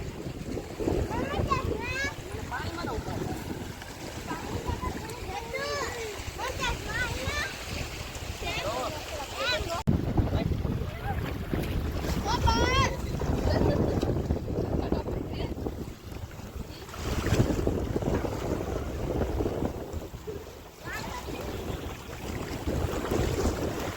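Sea waves wash onto the shore by a crowded temple beach, a steady surging rush with breaking swells, while people talk and chatter nearby throughout.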